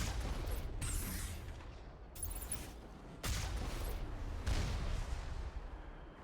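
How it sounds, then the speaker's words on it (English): Rocket turrets fire in the video game Mass Effect during a snowstorm battle, a run of heavy blasts and booming explosions over a constant roaring wash of combat noise. "we got more rocket turrets to worry about"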